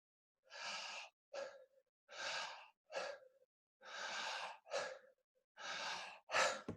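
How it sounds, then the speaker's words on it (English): Continuous connected breathing shown without pauses: deep, loud, airy inhales alternating with shorter exhales in a steady rhythm, close up, with no speech, the last breath sharper and stronger. "you don't pause your breathing. So you have a circular breathing."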